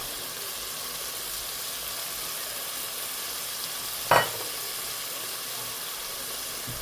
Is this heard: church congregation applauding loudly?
no